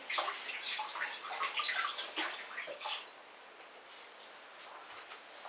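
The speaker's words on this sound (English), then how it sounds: "I'm going to wash them, just to make sure there's no lime residue that can get into my omelette" Eggs preserved in lime are rinsed under running tap water, giving a close splashing stream for about three seconds, then the water tapers to faint trickles and drips.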